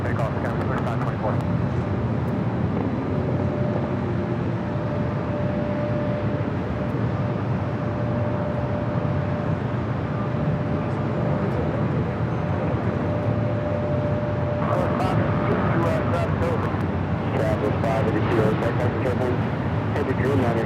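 A large airliner taking off from runway 24 left at Los Angeles International Airport, its engines a loud, steady roar throughout with a sustained tone, while radio chatter talks over it.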